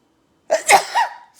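A single human sneeze bursts out close and loud after a moment of silence, a sharp explosive burst followed by a short trailing exhale.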